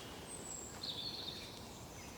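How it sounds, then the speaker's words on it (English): Birds chirp faintly at Oulton Park race circuit in a quiet outdoor setting, with a few thin high calls over soft background hiss. "You can even hear the birds chirping."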